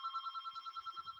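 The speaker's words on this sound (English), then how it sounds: "Excuse me for the phone ringing here" A telephone rings during a recorded discussion, a rapid trilling electronic bell repeating steadily for over a second, fairly clear and alone, with only faint low rumbles underneath.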